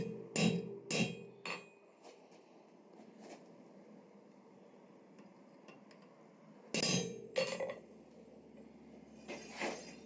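Hammer blows on a chisel cutting lines into forged steel bar, a few sharp metallic clinks in quick groups, then a quiet stretch before more ringing strikes, close and moderately loud.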